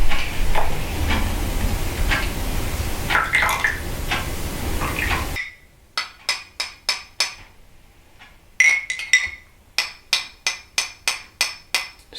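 Coffee with half and half stirred in a cup, a run of sharp, evenly spaced spoon clinks against the sides that pauses briefly and then picks up again, at first under a washy background and then alone and close.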